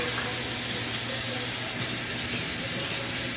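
A faucet runs steadily into a sink while dishes are washed, with a continuous splashing rush of water close by and faint clinks beneath.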